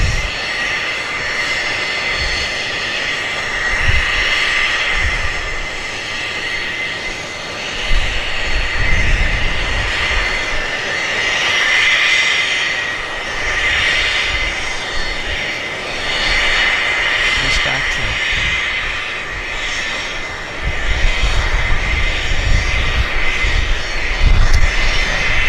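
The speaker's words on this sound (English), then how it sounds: "But I'm going to get the Air Canada 787 right now." Air Canada Boeing 787 jet airliner engines roar steadily at an airport, a sustained loud rumble and whine that swells in waves as the aircraft moves, with no talk over it.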